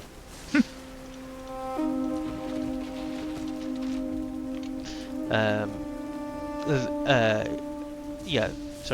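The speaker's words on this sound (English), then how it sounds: "Hear the rain outside. It's raining again." Steady rain patters in the background beneath sustained tones and a few bursts of speech.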